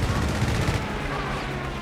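Dense, loud machine-gun and rifle fire from a Company of Heroes 3 battle, with a Vickers gun on the flank and artillery called in, rattling continuously in overlapping bursts with no clear pauses.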